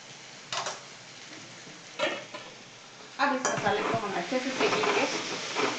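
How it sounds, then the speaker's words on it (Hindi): Ground masala of salt, coriander powder and turmeric stirred and roasted in a pan for onion kachori, with a soft steady sizzle, a few scraping spoon strokes early on, then busier clinking and scraping toward the end. "अब हम इस मसाले को अच्छे से मिक्स करेंगे और अच्छे से भून लेंगे।"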